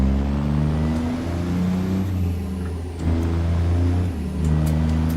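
A high-boy truck engine in a realistic owner-operator trucking simulator drones loud and steady, its low rumble rising and falling as the revs swell, with no talking over it.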